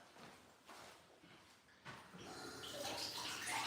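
Water from a sink tap runs into a container, starting as a soft, faint trickle and then swelling into a steadier, brighter pour that keeps building to the end.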